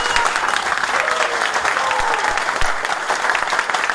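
An audience at a convention in Phuket, Thailand, applauds loudly and steadily, a dense wall of clapping that holds at a constant level throughout.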